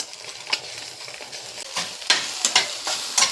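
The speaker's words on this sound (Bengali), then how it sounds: "ডিমটাকে ভালো করে ভেজে নিতে হবে" Two eggs fry in a pan and are pressed and broken into small pieces with a spatula for soybean fried rice, heard as a close sizzle with sharp, irregular scraping strokes and no talk.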